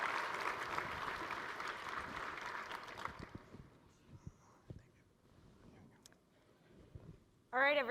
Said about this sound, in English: Round of applause for Nick.